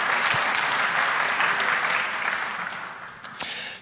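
An audience at a PowerShell security research talk breaks into dense, sustained applause that gradually thins and fades over a few seconds.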